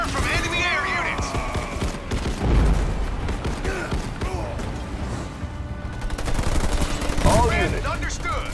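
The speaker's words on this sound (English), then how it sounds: "Under fire from enemy air units." Gunfire from enemy air units in a video game battle, bursts of rapid shots and booms mixed with game voice lines and unit chatter throughout.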